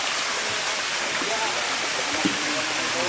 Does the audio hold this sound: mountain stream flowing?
yes